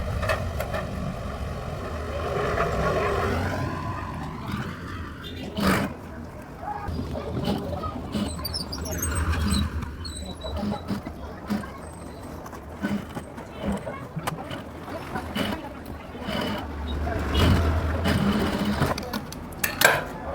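A sewing machine runs in short stitching bursts as a patch on a Paithani saree blouse back neck is sewn, with someone talking over the clattering runs and pauses.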